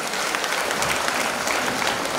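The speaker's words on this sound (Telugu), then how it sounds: "చప్పట్లు." Applause from a large audience at a big community gathering, a dense, loud, continuous burst of clapping lasting a couple of seconds with no speech over it.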